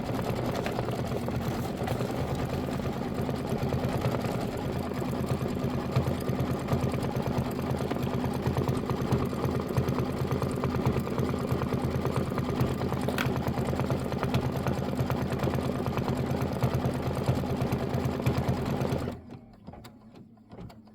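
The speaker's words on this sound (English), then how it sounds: "we're going to stitch the placement line for the large pumpkin" An embroidery machine runs a steady, fast stitching buzz while sewing the placement line for a large pumpkin block on a quilted pillow, then stops abruptly near the end, leaving quiet.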